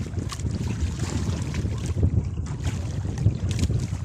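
Gusty wind roars across a fishing boat out on the water while grouper fishing, a dense, close rumble with small surges and bumps, steady throughout with no talking.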